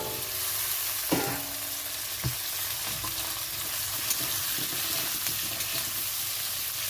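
Cut potatoes and onions fry in a pan, giving a steady up-close sizzle broken by a few sharp stirring knocks, with no voices.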